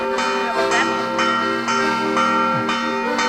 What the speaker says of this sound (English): You can just listen to the church bell.